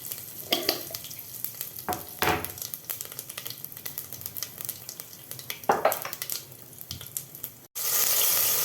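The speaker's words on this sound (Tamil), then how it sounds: "கடுகு நல்லா பொரிஞ்சதுக்கப்புறம் கறிவேப்பிலை ஆட் பண்ணிக்கிறேன்." Mustard seeds, curry leaves, cumin and pepper sizzle in hot oil in a home kitchen, with stirring scrapes and bursts of crackle rising and falling, then a sudden loud rush of running water near the end.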